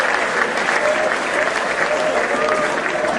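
Audience applause at a Hindi poetry recitation, a dense steady clatter of many hands clapping at close range, loud and continuous throughout with a faint murmur of voices underneath.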